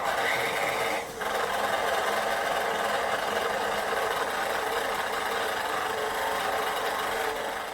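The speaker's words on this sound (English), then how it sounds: "let this knead for about 6 minutes until it all gathers together and pulls off the side of the pan" A grain mill's mixer kneading bread dough, a steady mechanical motor whir with a faint rhythmic churn, continuous and close, with one brief dip near the start.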